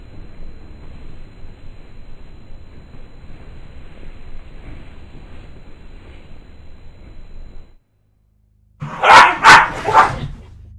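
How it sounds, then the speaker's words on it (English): Three loud, close dog barks in quick succession ring out during the closing credits of the stealth game Dishonored, following a stretch of low game ambience and a brief silence. "that was the dogs here to say hello as the credits roll"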